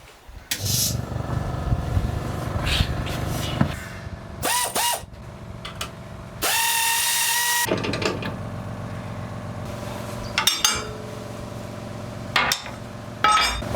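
Bolts being loosened on a Land Rover axle during leaf spring bush work, with bursts of ratcheting, rattling tool clatter and one longer loud whirring stretch of an air tool, between metallic knocks.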